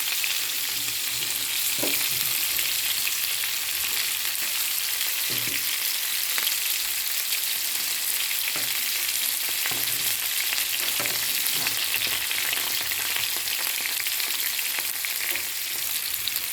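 Ivy gourd frying in a pan gives a loud, steady sizzle that runs continuously throughout, with occasional soft stirring knocks from a utensil, close up and with no voices.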